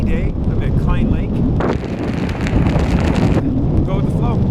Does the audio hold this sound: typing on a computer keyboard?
no